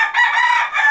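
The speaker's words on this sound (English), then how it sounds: "There's a rooster with Mom." A loud, close rooster crow, one strident drawn-out call that breaks briefly and resumes.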